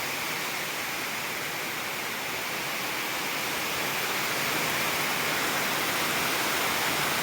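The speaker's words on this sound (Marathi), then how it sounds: "जोरात आवाज येतोय पत्र्यांचा लय मोठ्याने आवाज येतोय हे बघा किती जोरात पाऊस" Heavy monsoon rain drums on metal roof sheets beside a maize field, a dense, unbroken roar that stays loud and steady throughout with no voices.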